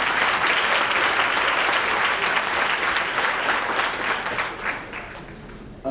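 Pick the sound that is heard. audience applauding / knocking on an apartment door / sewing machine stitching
audience applauding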